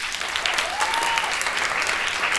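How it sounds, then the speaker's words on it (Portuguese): Dense, steady applause from a large audience fills the whole stretch, loud and continuous without pauses. "salva de palmas"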